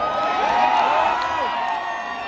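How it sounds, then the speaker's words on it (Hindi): A live-show audience claps and cheers in a steady, dense wash of crowd noise with whoops rising through it, loud and close throughout. "देखने के लिए बजा देना ताली।"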